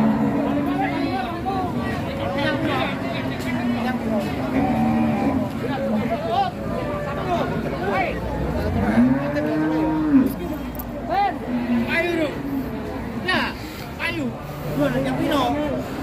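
Cattle at the busy Jatirogo cattle market moo repeatedly, near and far, over a continuous hubbub of crowd voices and market noise.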